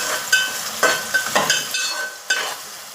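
Onions and curry leaves fry in oil for a crab curry, a close sizzle punctuated by repeated stirring strokes and spatula scrapes at an irregular rhythm.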